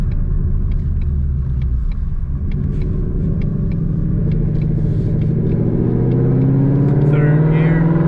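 A Mustang fitted with longtube headers and a Borla ATAK exhaust accelerates hard, its loud, deep rumble climbing steadily in pitch, heard close from inside the car.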